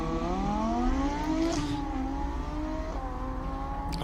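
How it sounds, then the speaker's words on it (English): An Audi R8 V10 race car climbs a hillclimb course, its engine revving hard and climbing in pitch through gear changes, a loud, continuous high-pitched wail fairly close by. "I love the sound of that Audi."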